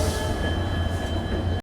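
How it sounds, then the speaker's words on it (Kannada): Train noise at a railway station on the Mangaluru to Bengaluru line, near twin WDG4 diesel banker locomotives: a steady, loud mechanical drone with faint wheel squeal, no voices, cutting off abruptly. "ಸೈಡಿಗೆ ನಿಂತಾವಲ್ರಿ WDG4 ಟ್ವಿನ್. ಇವ ನಮ್ಮ ಬ್ಯಾಂಕರ್ಸ್."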